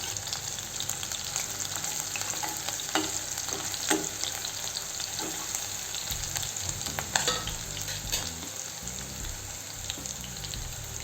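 Ginger-garlic paste with chilli and ground coriander fries in a pan for a Marathi ivy gourd vegetable dish, a steady close sizzle broken by several sharp scrapes and clinks of a spoon stirring.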